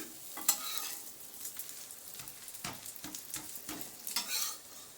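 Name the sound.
buttermilk dosa frying with oil on pan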